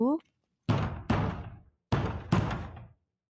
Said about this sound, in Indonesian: Tiba-tiba, terdengar suara pintu diketuk dengan keras.